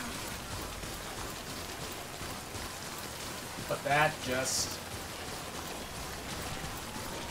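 Timefall rain in the video game Death Stranding, a steady hiss of falling rain throughout, with a brief spoken phrase partway through.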